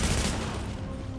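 Dense, sustained gunfire from a firefight in The Division video game, a loud continuous burst of overlapping shots filling the whole moment with no talk.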